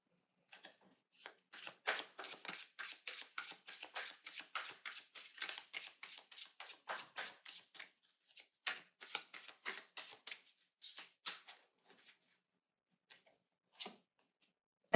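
Tarot cards being shuffled by hand before drawing clarifier cards, a quick run of crisp riffling clicks and flutters that thins out into a few sparse snaps, close and fairly quiet, with no voices.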